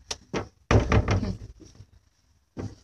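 The door of a sauna room in a forest and mountain setting shuts with a few solid knocks and thuds: two quick taps, a louder heavy closing, then a final knock, with no talking.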